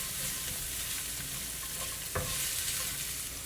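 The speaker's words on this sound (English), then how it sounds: "Going to saute this on a high flame" Chopped onion and white scallion sauté on high flame, a continuous dense sizzle up close with light stirring and one sharp clack of a utensil against the pan partway through.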